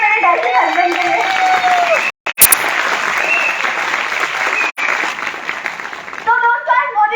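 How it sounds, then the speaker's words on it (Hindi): Audience applause rolls on steadily and loud, a dense crowd clapping with a couple of brief dropouts, and a voice speaks over it near the end. "तो एक बार ताली हो दीजिए मेरे डैडी हस्बैंड के लिए।"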